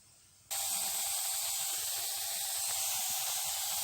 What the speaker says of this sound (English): the steam coming out from the pressure cooker